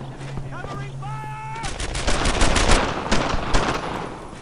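Sustained gunfire in the World War II shooter game Brothers in Arms: Earned in Blood, rapid overlapping shots building from about 1.7 seconds onward after a quieter opening with tonal game sounds and some speech.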